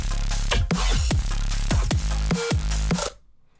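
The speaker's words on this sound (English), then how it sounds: "I have some root bass notes played with this saw bass" A synthesized saw bass plays root notes in a steady electronic rhythm, punctuated by sampled growl fills between phrases, loud and upfront before cutting off abruptly into near silence.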